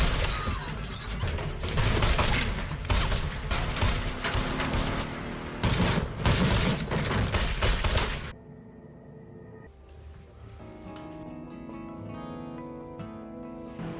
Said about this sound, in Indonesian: Tapi saat baku tembak, si Lurik dan si Nico tewas tertembak.